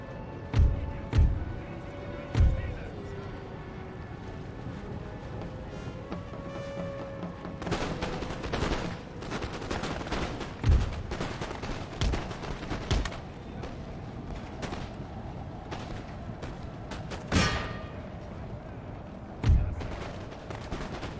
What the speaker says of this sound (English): Let's just fire down to the left side there.